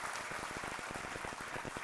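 Lively applause from a seated audience at a motivational talk, dense overlapping hand claps in a steady patter, moderately distant and without voices.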